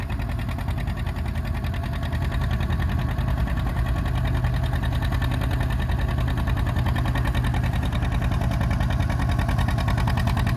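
A John Deere 630 tractor runs steadily at a show in Anselmo, Nebraska, its low, even engine note throbbing continuously and fairly close, with no talk over it.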